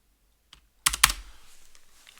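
Typing on a computer keyboard: after a single soft tap, a quick burst of loud clacking keystrokes, then a rapid string of lighter key taps that fades away, heard up close in a quiet room.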